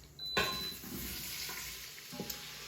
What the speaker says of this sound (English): So I'm gonna add in my onion. These are sliced, maybe like 1/2-inch slices or so.